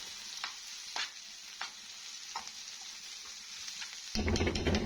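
Garlic and pomegranate molasses sizzle and crackle steadily in a hot pan, with a few soft clicks of stirring, then the frying swells suddenly louder near the end.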